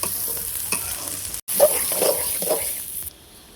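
Garlic frying in oil in a pan over a home stove, a bright, constant hiss of hot oil with a few light stirring scrapes near the mic and a brief cut in the middle.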